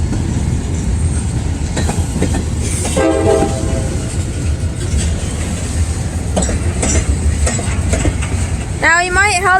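A CSX maintenance-of-way train rumbles past at close range in Hamilton, Ohio, with wheel clatter under conversational voices and a horn sounding near the end.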